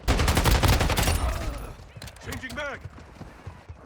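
Shotgun fire in the mobile shooter game Warzone Mobile, heavy gunfire bursts crowding the first second and a half, then fading into scattered game sounds and softer shots.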